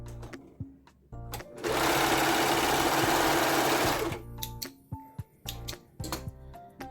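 Sewing machine stitching a shirt collar seam, a sustained fast mechanical whir for about two seconds, with scattered clicks, taps and fabric handling before and after.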